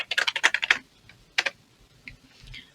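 Keystrokes on a computer keyboard while working in Figma: a quick run of about eight close taps, a pause, a pair of taps, then a couple of faint ones, with no talking.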